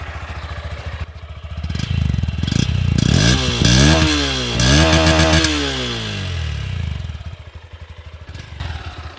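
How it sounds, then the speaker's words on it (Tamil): A Honda NX200 motorcycle engine cranks on self start and catches, then revs up and down in loud bursts before settling into a rattling idle. "இந்த வண்டியோட இன்ஜின் நோட் எப்படி இருக்குன்னு பார்க்கலாம்"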